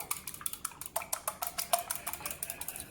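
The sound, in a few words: whisking egg, egg yolk and milk for glaze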